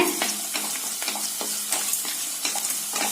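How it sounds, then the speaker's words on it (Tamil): Onions with ginger-garlic paste sizzle steadily in hot oil while a utensil scrapes and stirs the pan every half second or so. Close and moderately loud, with no talking. "இஞ்சி பூண்டு விழுதுங்க, அதையும் இதோட சேர்த்திங்க நல்லா ஆயில்ல வதக்கிக்கலாங்க."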